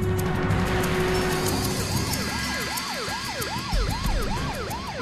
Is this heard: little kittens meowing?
no